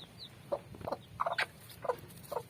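Hybrid chicken chicks with layer-hen colouring give about five short, bright peeps and chirps in quick succession, close by and fairly soft, with no talking.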